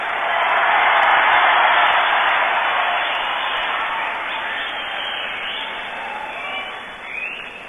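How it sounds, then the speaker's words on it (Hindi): Applause from a large youth convention audience at Mahatma Mandir, Gandhinagar, a broad wash of clapping that swells loud at first, then slowly fades. "ये आपके तालियों की गूंज पोरबंदर तक सुनाई जा रही है"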